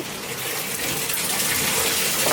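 Tap water gushes steadily into a bucket or tub to soak dirty laundry, a continuous broadband rush that holds level and close throughout with no voices.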